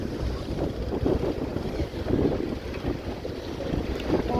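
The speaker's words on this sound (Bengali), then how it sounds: "অয়েল ট্যাঙ্কার লোড হয়ে হচ্ছে ঢাকার দিকে যাচ্ছে" A loaded oil tanker ship moves along the river near Munshiganj toward Dhaka with a steady, dull low rumble of engine and water. Heavy wind buffets the microphone throughout, and no voices are heard.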